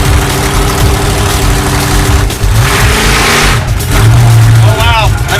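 Stubby Bob, a shortened project car, revving and accelerating hard with a loud mid-to-low engine roar that surges and drops, close to the microphone, with a brief tire or squeal-like tone near the end.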